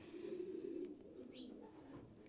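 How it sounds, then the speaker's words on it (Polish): Pigeons coo softly inside a cramped wooden loft with a side entrance window, low murmuring coos running steadily through the clip with a brief higher chirp partway. "stąd wszystkie gołębie wylatują tym oto oknem"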